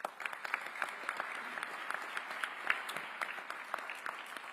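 An audience at a state Senate ceremonial celebration applauds with scattered, crisp claps that blend into an even, moderately distant patter throughout.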